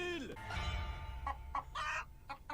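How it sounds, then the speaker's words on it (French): Comic sound effect of a chicken clucking: a short voiced sound opens, then several quick, fairly close clucks follow in irregular bursts. "ils ont rajouté la poule derrière pour faire un effet comique"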